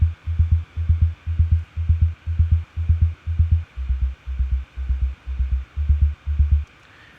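A low, thumping sub layer from Logic's Klopfgeist sits under a synth bass, pulsing in a steady, even rhythm of about fifteen rounded hits, loud and alone.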